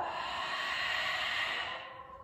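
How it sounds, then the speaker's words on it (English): One big, steady exhale pushed out during a yoga flow, close and fairly loud, a broad airy rush that holds for about two seconds and then tapers off, with no voices over it. "Big exhale out."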